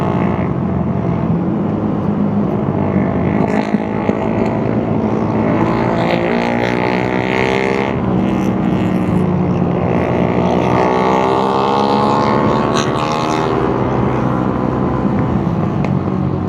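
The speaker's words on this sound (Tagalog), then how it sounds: "Ang lalakas ng tambutso." Loud motorcycle exhausts roar at a street race in Calapan, several engines revving and sweeping up and down in pitch in a continuous, close, dense drone.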